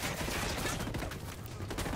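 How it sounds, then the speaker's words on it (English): Sustained automatic gunfire from the video game Ghost Recon Wildlands roars on without a break, a dense, loud, crackling stream of shots. "I'm opening fire."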